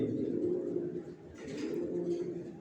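Pigeons of an old Johnson line coo softly in a loft with fresh bedding, a low, steady murmur of calls close by and fairly quiet throughout.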